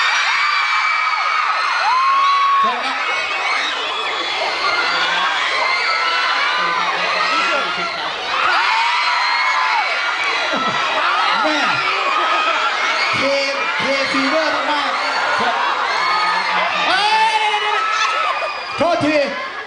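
An audience of young fans screams and cheers at a Yamaha Fino campaign opening event with a cover performance, shrill overlapping shrieks and whoops filling the whole stretch loudly and continuously.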